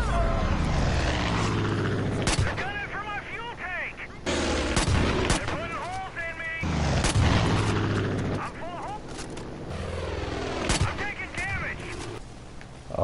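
Gunfire bursts in the video game Far Cry 5 crack out repeatedly at a loud, close level, layered with busy game effects and music throughout. Speech is heard in places.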